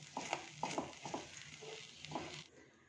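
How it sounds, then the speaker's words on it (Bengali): A utensil stirring and scraping egg masala stuffing with cumin powder and coriander leaves in a pan, a few soft, irregular clinks and scrapes over a faint background, quiet and close. "একটু মিশিয়ে দিচ্ছি ভালো করে"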